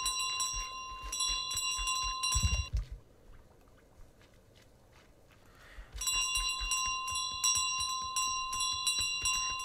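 In Untitled Goose Game, a small bell rings repeatedly in rapid bright jingling runs, stops for a few seconds around a low thump, then resumes steadily.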